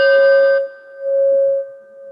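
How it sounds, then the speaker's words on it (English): A bell rings to open a Rotary Club meeting, two clear ringing tones with a sustained pure pitch, loud and close, the second strike following after a brief decay. "Ring the bell."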